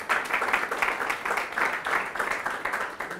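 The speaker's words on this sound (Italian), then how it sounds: "io ho notato che l'applauso è stato molto, molto più scarso per i giornalisti rispetto a quello che avete fatto per Silva" A TV studio audience claps in a short, fairly quiet round of applause at a steady, even level, with no talking over it.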